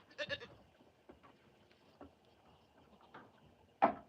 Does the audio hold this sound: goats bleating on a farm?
yes